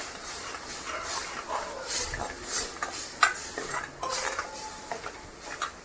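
Red chilli powder, turmeric, cumin powder and chole masala are stirred in oil in a pan, with a soft hiss of frying under close scraping and clinking spoon strokes that come in uneven bursts.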